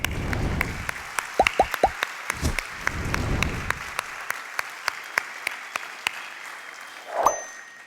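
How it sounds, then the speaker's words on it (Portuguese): Church congregation gives a round of applause for mothers, heard as a run of scattered, fairly distinct claps spaced out at a slow, uneven pace, with a few clinks and knocks mixed in. "E a todas as mães que aqui estão, um forte aplauso."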